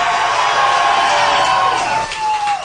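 Concert crowd at a live rock show cheering and whooping loudly before the band plays, a dense roar of many voices with a sustained high shout rising above it, then dipping near the end.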